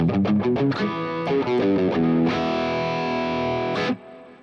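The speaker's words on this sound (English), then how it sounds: "You can hear the guitar." Electric guitar played through distortion and effects, with a quick run of plucked notes, then sustained ringing chords that cut off sharply near the end; loud and close, with no talk.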